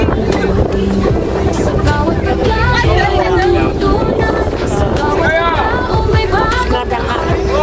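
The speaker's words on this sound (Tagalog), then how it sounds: "Ang hangin guys." Gusty wind buffets the microphone in a steady rumble, with voices talking over it throughout and harbor noise in the background.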